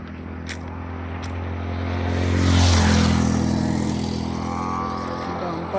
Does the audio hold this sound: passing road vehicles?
yes